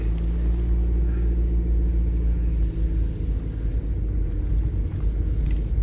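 Steady low engine rumble from inside a car pulling out of a car park near the Shay stadium in Halifax, a continuous close drone with faint road texture and no talking.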